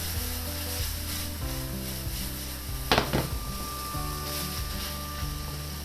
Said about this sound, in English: You can now hear it start to crackle, and that is the sign of it caramelising